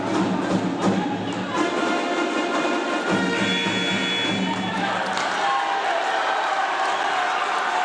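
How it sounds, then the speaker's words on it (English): High school boys basketball crowd at a Pembroke Hill road game roars for Pembroke, a loud continuous swell of cheering and shouting that rises and falls over about eight seconds with voices mixed in. "Pembroke crowd's really getting into it right now."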